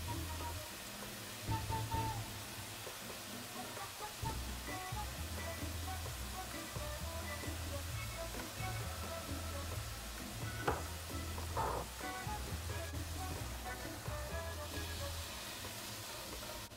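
Ground beef seasoned with salt and pepper sizzles and crackles steadily in a hot pan, with occasional scraping and stirring clatter over a continuous frying hiss.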